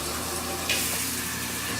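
A kitchen sink sprayer runs water in a steady, quiet hiss with a slight surge partway through, with no talking.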